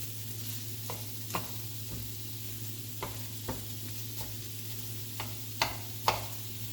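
Italian sausage sizzles quietly while being broken up and browned in a pan, with soft scraping stirs and occasional light taps of a utensil over a steady low hum.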